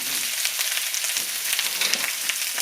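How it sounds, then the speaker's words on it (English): Sliced onions sizzle and fry steadily in a hot pan, a dense, continuous crackling hiss close by with no voices over it. "I'm gonna throw my sliced onions in. You're gonna hear that sizzle."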